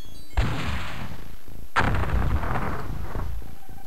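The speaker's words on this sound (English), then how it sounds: "You shoot out the buildings, the aliens have nowhere to hide." Weapons fire in the X-COM video game blasts apart buildings: two heavy, booming bursts about a second and a half apart, each followed by a crackling, rumbling decay.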